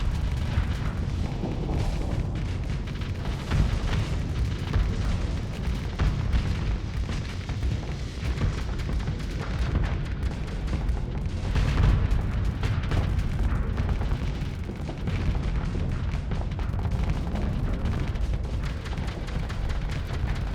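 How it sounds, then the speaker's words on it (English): A volley of pirate missiles exploding in the space game Starsector, a dense continuous barrage of heavy booms and rumbling blasts layered over one another, loud and unbroken throughout. "Oh, there go a volley of their missiles."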